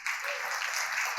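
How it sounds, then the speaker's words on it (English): Audience applause for a panelist at an education conference panel discussion in Dubai, a brief, steady burst of many hands clapping at moderate level with no speech over it. "Big round of applause for Mr."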